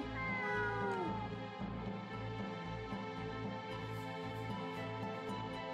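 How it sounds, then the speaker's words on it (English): A cat meows in the video game Star Ocean, one drawn-out falling cry near the start, heard over steady game music that continues afterward. "Another kitty."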